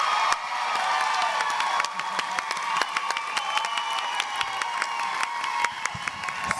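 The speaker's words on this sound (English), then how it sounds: "I think I ought to stand up for this and give you a hand clap." Applause and hand clapping for dancers at a live dance show, a dense sustained crowd ovation with scattered cheers, loud and steady throughout.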